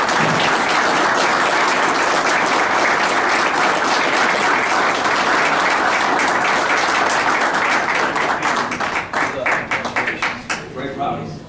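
Round of applause at a Mason City city council meeting honoring a national pageant winner: dense, loud clapping from the room that holds steady, then thins into scattered claps as it dies away.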